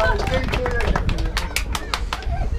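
Brief clapping from a crowd at an outdoor motocross picnic awards ceremony, a short run of sharp, irregular claps that carries on for a couple of seconds.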